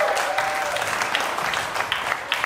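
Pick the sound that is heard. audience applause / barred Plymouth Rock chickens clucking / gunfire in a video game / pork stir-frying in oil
audience applause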